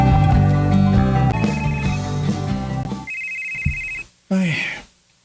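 A telephone rings with a repeated electronic bell in a Cebuano radio drama, sounding over music before breaking off, followed by a short sound effect.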